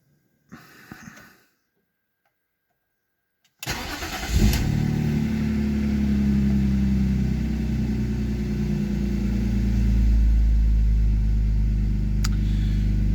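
A BMW engine starts after a short rustle and a quiet pause, then settles into a loud, steady idle with deep rumble that swells slightly as it revs, continuous to the end.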